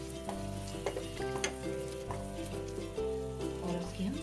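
Moong dal halwa is stirred in a pan, thick scraping and knocking strokes repeating under a soft sizzle, close and moderately quiet.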